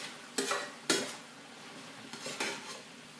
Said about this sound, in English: I think I'll throw in the zucchini